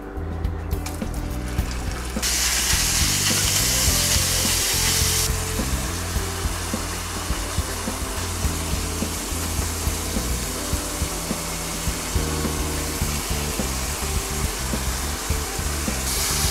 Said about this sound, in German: jetzt können wir unser Gehacktes anbraten. Und dazu erhitze ich erstmal hier wieder das Olivenöl